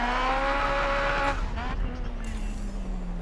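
A race car brakes hard in GRID Autosport, its engine note dropping in pitch and tyres squealing as it decelerates, loud and close with a continuous engine drone throughout.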